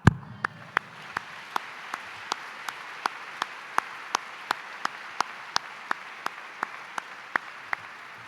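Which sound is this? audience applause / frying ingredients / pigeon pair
audience applause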